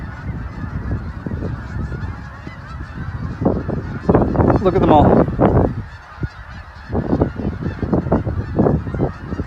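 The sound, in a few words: flock of geese honking overhead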